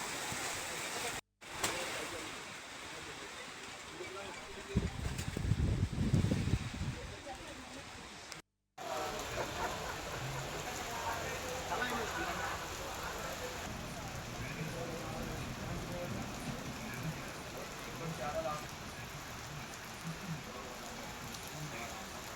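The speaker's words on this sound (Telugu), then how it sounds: "హైదరాబాద్, కరీంనగర్ తదితర ప్రాంతాల్లో ఆకాశం మేఘావృతమై వర్షం కురిసింది" Heavy rain pours over Hyderabad under a cloud-covered sky, a steady broadband hiss filling the whole stretch with a louder burst midway and two brief dropouts.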